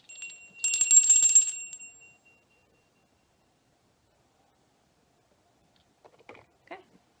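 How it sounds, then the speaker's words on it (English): A small hand bell rings once with a bright metallic tone that decays over about a second, followed by silence and a few faint soft sounds near the end. "I forgot to ring my bell"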